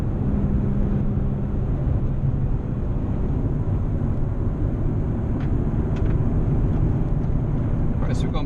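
Nissan 370Z accelerating on the Rockingham race track, a steady loud engine drone with heavy low rumble and wind buffeting throughout, no distinct gear changes standing out.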